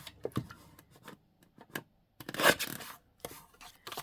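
Scissors trim a paper journal tag for a spooky gothic craft project, giving soft close rubbing snips and scrapes, with one louder crisp cut midway.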